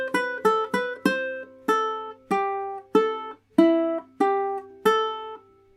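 A ukulele plays the melody of a song as about a dozen clear plucked notes in a slow, even rhythm, each ringing and decaying alone.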